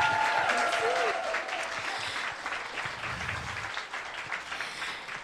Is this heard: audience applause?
yes